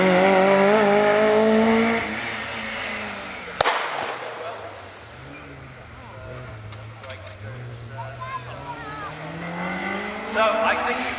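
Honda Civic race car at a hill climb, its engine revving loudly and nearby before fading into the distance as it climbs away, with a commentator talking over it.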